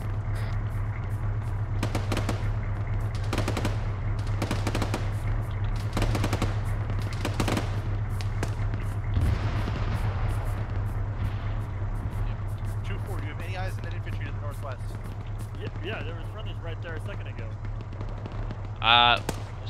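Gunfire at a milsim exercise, sharp shots and short bursts popping through steady radio hiss and a low engine drone, some near and some distant.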